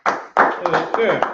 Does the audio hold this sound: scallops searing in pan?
no